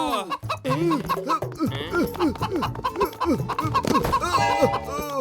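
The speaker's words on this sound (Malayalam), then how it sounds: "എന്റെ മോട്ടോ, ഇത്ര വലുതായിട്ട് നിനക്കൊരു കോഴിയെ പോലും പിടിക്കാൻ പറ്റില്ലേ?" Cartoon chickens cluck in quick, choppy bursts, mixed with lively animated voices talking over them, from the Motu Patlu animated series.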